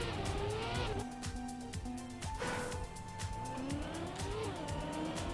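A Trackmania racing-game car engine drones and revs continuously, its pitch rising and falling through shifts, with brief tire squeals and steady loud whine throughout, no talking.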